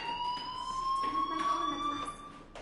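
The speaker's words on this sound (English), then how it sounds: "do you hear that fire alarm? That means you should be outside." A fire alarm rings inside a building in the video game Life is Strange, a continuous electronic tone that holds steady and loud throughout.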